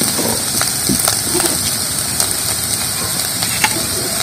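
Taro flowers fry in hot oil with egg, giving a steady, close crackling sizzle with scattered pops and light stirring, loud and constant throughout, no talk.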